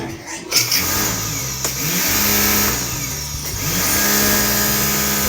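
A Bosch pressure washer sprays the ground, its motor droning steadily and loudly with a hissing jet over it, surging and easing in pressure across the few seconds, with no talk.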